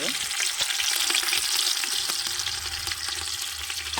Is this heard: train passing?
no